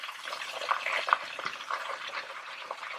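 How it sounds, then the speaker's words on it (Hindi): Chicken pieces in a spicy peri peri coating fry in hot oil with a steady, soft crackling sizzle and small pops, heard alone throughout. "इसको तकरीबन लग जाएंगे 12 से 15 मिनट अच्छे से फ्राई हो जाने के लिए"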